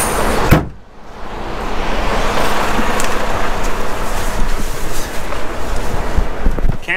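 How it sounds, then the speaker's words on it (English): A truck cab cubby door is shut with a single sharp thud near the start, followed by the steady loud rumble of the idling truck cab. "I guess I should close my cubby door"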